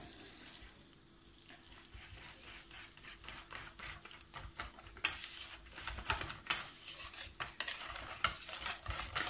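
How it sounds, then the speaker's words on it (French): Coconut ice cream mixture being stirred quickly in a bowl, with continuous scraping and clinking of a utensil against the sides, growing louder and busier toward the end, with no talking. "Allez, on va mélanger rapidement"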